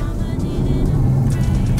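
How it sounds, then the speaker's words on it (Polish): A hybrid car's V8 engine rumbles steadily at close range, a deep, continuous low drone. "teraz jesteśmy w tym momencie, gdzie możemy włączyć sobie, pomruczeć. Jest ta V8"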